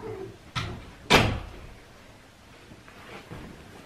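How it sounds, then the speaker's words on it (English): A door is shut indoors, giving a soft knock and then a sharp, loud close, followed by faint shuffling. "maybe close the door."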